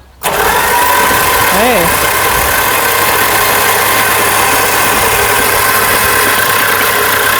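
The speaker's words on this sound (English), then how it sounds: "So the starter sounded healthy" The starter cranks the engine of a 1972 Dodge Crew Cab during a compression test. It kicks in abruptly and continues as a loud, steady mechanical drone close to the microphone.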